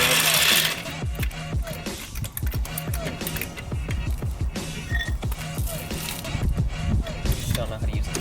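A car jack is worked under a Honda Accord Coupe, giving a run of rapid repeated ratcheting clicks and metallic clatters close by, with brief pauses between bursts.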